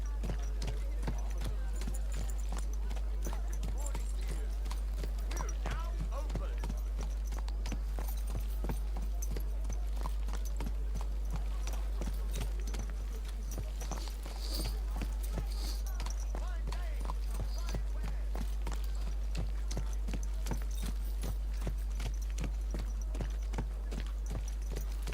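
Horse hooves clip-clop at a steady riding gait in the medieval role-playing game Kingdom Come: Deliverance 2, a continuous rhythmic patter close by, with voices talking over it.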